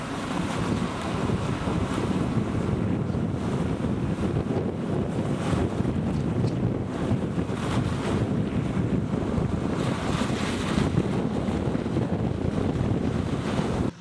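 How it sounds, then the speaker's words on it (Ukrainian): Steady, loud wind buffeting a microphone while riding along a main street in a small town, a constant broadband roar with no gaps and no voices. "це ми їдемо по головній дорогі по Кірова."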